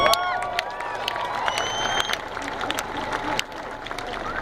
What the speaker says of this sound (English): Massive applause,